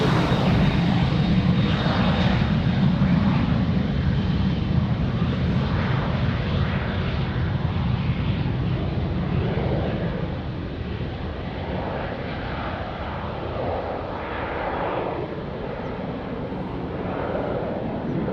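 An airplane on approach to Lisbon Airport gives a steady, loud engine roar with wind rush that fades slightly partway through and continues without a break.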